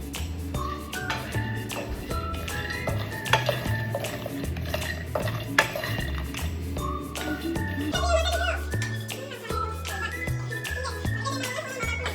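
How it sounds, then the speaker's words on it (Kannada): Peanuts, cashews and almonds roasting together in a pan, stirred with a spoon that scrapes and clinks against the metal in a busy, irregular rhythm, close up, with a faint sizzle underneath. "ಈಗ ಕಡಲೆಕಾಯಿ ಬೀಜ, ಗೋಡಂಬಿ ಮತ್ತೆ ಬಾದಾಮಿ ಮೂರನ್ನು ಒಟ್ಟಿಗೆ ಹುರ್ಕೊಳ್ಳೋಣ"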